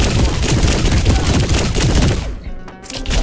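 Rapid sustained gunfire from sci-fi weapons in the video game High on Life, a loud dense barrage of shots filling nearly the whole stretch before cutting off into a brief lull with a few trailing thuds.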